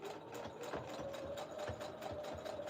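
A sewing machine stitches through a tattered quilt, running in a steady, rapid mechanical whir with a continuous hum and rhythmic needle clatter, faint and uninterrupted throughout.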